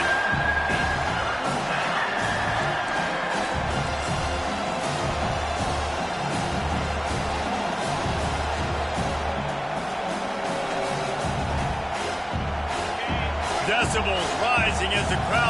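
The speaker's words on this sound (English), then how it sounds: "Decibels rising as the crowd gets behind this defense on third down." A football stadium crowd roars in support of the defense on third down, a continuous swell of cheering and whoops beneath steady play-by-play commentary.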